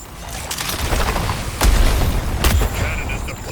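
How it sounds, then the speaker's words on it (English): Heavy cannon volley in the Suicide Squad: Kill the Justice League Brainiac boss fight: a rolling barrage of booming blasts, with two loud impacts standing out amid dense, continuous battle noise. "Cannon volley overhead."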